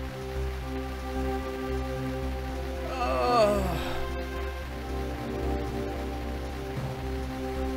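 Steady hiss of rain in the Game Boy Advance game Dragon Ball Z: Legacy of Goku II, running continuously beneath tonal game music and a brief swooping effect.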